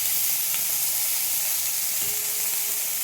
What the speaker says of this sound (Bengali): ওই মাছ ভাজা তেলের মধ্যে কপিগুলো দিয়ে দিলাম।